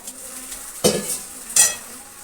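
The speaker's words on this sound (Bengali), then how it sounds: "তো জল ঢেলে দেবো" Water is poured into a hot kadai of well-cooked masala, giving two sharp hissing sizzle bursts that fade between them, with a faint clink of a utensil.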